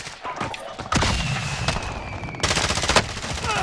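Gunfire in Call of Duty: Modern Warfare, loud, close rapid automatic bursts layered with single shots, thuds and dense continuous fire throughout.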